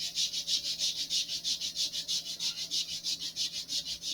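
Fine abrasive sanding of a bevel into a model rocket fin for an AIM-54 Phoenix kit, a steady back-and-forth rasp in quick even strokes, close and continuous with no talk.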